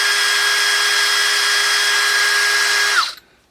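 A handheld power drill spins a bolt deburring tool on 1/4 inch threaded rod, a loud steady high whine holding for about three seconds before winding down abruptly and stopping.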